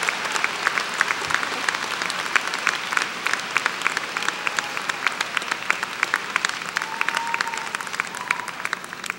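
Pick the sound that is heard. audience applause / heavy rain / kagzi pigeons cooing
audience applause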